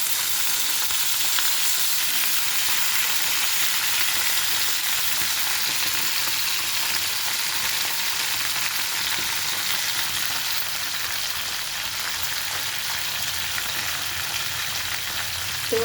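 Brinjal pieces fry in hot oil in a pan, giving a steady, dense sizzle that holds evenly from start to finish with no voices.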